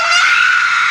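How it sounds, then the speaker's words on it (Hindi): A single high, strained scream from a crying person rings out briefly, shrill and sustained, close and loud. "किसी के रोते हुए चिल्लाने की आवाज़ आती है।"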